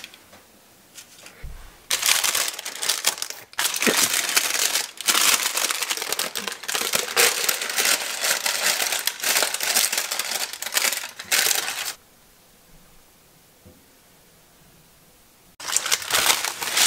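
Parchment paper crinkles and rustles loudly and up close, a long dense crackling that pauses for a few seconds and then starts again, with no voices.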